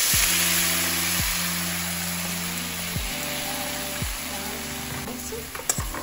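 Sauce poured into a hot pan of Mongolian beef fizzes with a broad, steady sizzle, close and fairly loud, under a repeating low tonal hum and a few faint clicks near the end.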